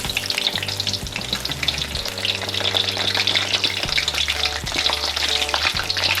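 Banana fritters (pinaypay na saging) fry steadily in hot oil in a pan, a loud, dense, continuous sizzle and crackle with no talking.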